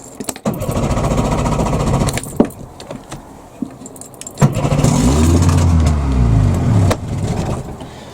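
An outboard engine on the Swamp Duck boat, started with the choke after weeks of sitting, cranks and catches in bursts, running roughly with surging revs and brief stalls between attempts.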